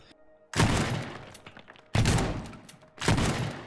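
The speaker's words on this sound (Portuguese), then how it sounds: "deixa eu jogar uma bombinha aqui" Three sharp small-bomb blasts in the video game Teardown, each a loud sudden burst with a rumbling, crumbling tail, spaced about a second and a half apart.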